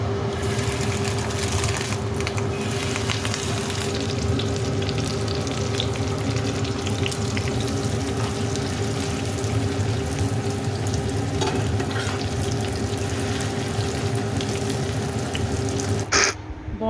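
Small fish roe fritters bound with ground onion and gram flour fry in hot oil, a steady, continuous sizzle close by, while crows caw in the background throughout.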